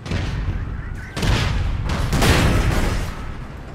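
Gunfire in APB Reloaded, including shotguns, with dense overlapping bursts of shots and booms crackling through a loud, busy stretch, heaviest in the second half, under voices from the players.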